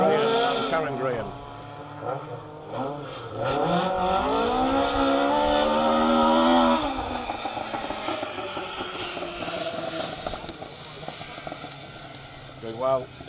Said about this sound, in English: Car 81 then, part of the second of the Flexifly cars, Will Graham and Karen Graham.